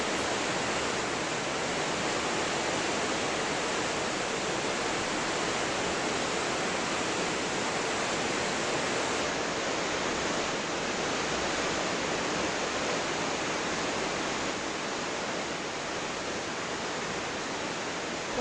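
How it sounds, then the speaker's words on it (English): Wastewater pours steadily over into troughs at a water treatment plant, a continuous loud rushing wash of falling water with no pauses and no voices. "the water's going to flow over into these troughs, and it's considered wastewater"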